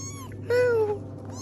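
A single hungry kitten found near a bridge gives one clear, close meow with a slight downward bend in pitch, set against a low steady background hum.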